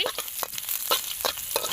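Chili dropped into hot oil with garlic sizzles in a close, steady fry, with several short bursts of stirring or scraping spaced through the clip.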